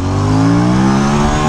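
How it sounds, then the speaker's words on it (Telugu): Aprilia RS 457 motorcycle pulling hard in first gear, its parallel-twin engine note rising steadily in pitch as it revs up, loud and close for the whole burst, with no voices. "so guys Aprilia RS 457 instant pull ఎలా ఉందో చూసాము"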